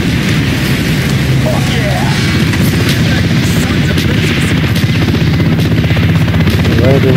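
A military helicopter in Call of Duty: Black Ops drones loudly and continuously with beating rotor chop, while distant gunfire and bursts crackle underneath and a voice speaks briefly over it.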